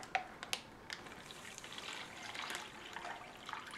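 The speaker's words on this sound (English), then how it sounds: "This calls for 12 ounces of water, so it's up to this line." Water trickles and splashes as it is poured into an MRE ration bag for beef ravioli in meat sauce, a soft, fairly quiet flow with a few small clinks early on and no talking.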